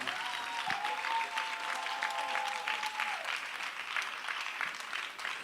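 A church congregation applauding in praise, a sustained wash of many hands clapping at moderate distance, with a faint sustained tone running underneath for the first few seconds.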